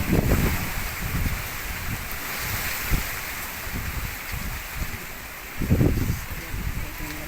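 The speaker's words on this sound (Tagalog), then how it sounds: "Ito, sumaragasa pa rin ng hangin, ng ulan" Typhoon Ulysses wind and rain roar as a steady broadband rush, with gusty low rumbles swelling and buffeting a microphone throughout.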